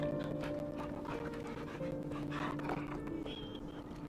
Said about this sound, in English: Doggo, the only one awake.